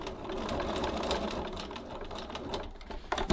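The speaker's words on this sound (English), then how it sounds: "Now I'm stitching this side here." A sewing machine stitches along the strap of a tote bag in a continuous, even mechanical whir, close and steady, ending with a few sharper clicks.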